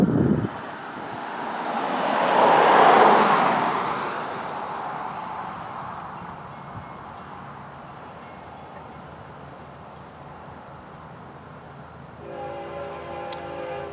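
FEC101 locomotive passing with a loud horn blast building and fading early on, then a steady rumble of railcars rolling by, with a brief second horn near the end.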